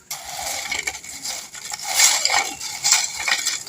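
Homemade potato chips tossed with black salt, chili powder and chaat masala in a bowl give a steady crisp crunching and rustling with light clinks, continuous and fairly loud throughout, with no talking.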